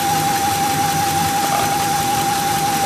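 A Ford F150 truck engine runs steadily with a constant high-pitched whine riding over a rough idle rumble, continuous and fairly close throughout.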